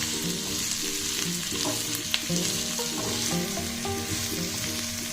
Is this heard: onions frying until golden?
yes